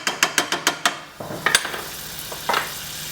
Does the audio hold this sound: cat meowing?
no